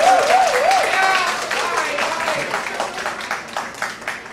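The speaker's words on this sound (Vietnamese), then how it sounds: "Một tràng pháo tay nữa cho thầy Nguyễn Duy Phương." Applause rises from an audience at a party honoring teacher Nguyễn Duy Phương. A dense wash of clapping holds throughout and slowly thins, and a tonal, wavering voice or music line sits over the start.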